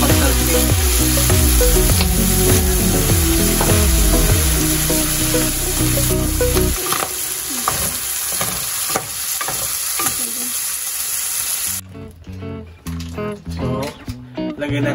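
Pork igado fries loudly in a pan as soy sauce goes in, a dense sizzle with music underneath early on, then softer sputtering and stirring scrapes, and a sharp drop near the end.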